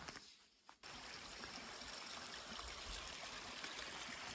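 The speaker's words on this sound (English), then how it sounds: "Another beautiful creek running right through this snowy trail." A creek runs along a snowy trail in North Carolina, giving a steady, close gurgling wash of flowing water that continues without a break, with no talking.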